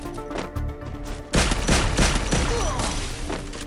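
Enemy gunfire in the battle royale game Free Fire, starting with sparse shots and then breaking into a loud, dense burst of rapid overlapping shots that keeps rattling on close by.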